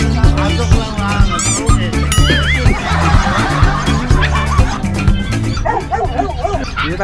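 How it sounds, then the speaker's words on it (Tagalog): Many dogs at a dog show bark, yip and whimper in a dense, loud overlapping chorus, with howling cries and a few voices in the crowd. "Ang dami eh. Dami aso dito."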